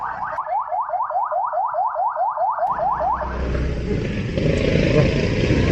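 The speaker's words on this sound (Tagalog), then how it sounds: "may wang-wang sa likod. Medyo malakas." A siren wails in a rapid, repeating up-and-down pattern for about three seconds behind a motorcyclist's camera. It then gives way to loud wind and road rumble.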